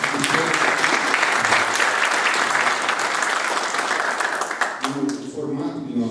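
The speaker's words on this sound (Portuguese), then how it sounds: "queria pedir uma salva de palmas para todo mundo" A full room at a Brazilian tunneling committee round table gives a long, dense round of applause, loud and sustained. It fades near the end as voices come up and speaking starts.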